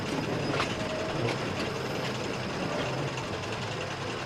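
A steam engine shunts trucks into station sidings at night, with a steady rolling rumble of rail wagons, faint clickety-clack and light metallic knocks throughout, moderately loud and without voices.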